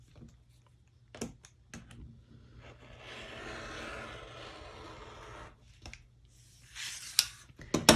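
Fabric pieces for a sailboat quilt block being cut, heard as a few sharp snips, then a sustained close scraping cut and more clicks and snips at the end, with no talk.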